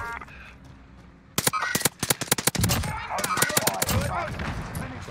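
An Owen gun fired in Warzone: a long, rapid automatic burst of sharp close-range shots after a quiet start, with a player talking over the gunfire.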